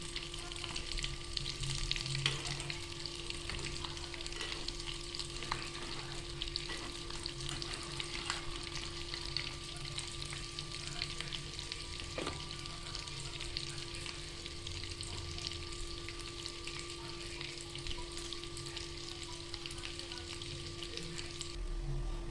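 Roll samosas deep-frying in hot oil give a steady, close sizzle and crackle that runs unbroken throughout, with a few faint clinks and no talk.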